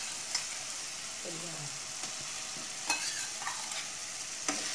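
Crab pieces and tomato sauté in a pan, giving a steady soft sizzle broken by a few light scrapes and taps from stirring.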